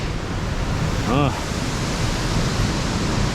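Sasa Falls rushes as a loud, steady broadband roar of falling water, with a brief voice cutting through the noise once.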